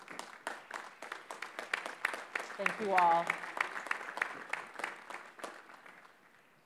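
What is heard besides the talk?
round of applause for faculty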